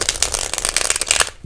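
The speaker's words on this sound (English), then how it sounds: "I have another shuffle" A deck of playing cards being shuffled, a loud, close, rapid rustling riffle of fluttering card edges lasting over a second before stopping abruptly.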